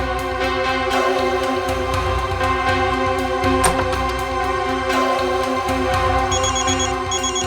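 A telephone rings with a steady repeating electronic tone, loud and close, continuing alone throughout.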